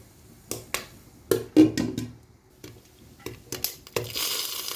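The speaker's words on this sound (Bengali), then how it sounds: "সবগুলো পপকর্ন ভাজা হয়ে যাচ্ছে" Popcorn popping in a covered pan: a handful of sharp, irregular pops and taps spread across a few seconds, close and distinct over a quiet background.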